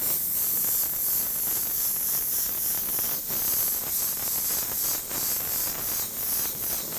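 Airbrush spraying grabber orange paint through a stencil, a steady close hiss with faint pulsing as the spray is applied heavy and light, with no talking.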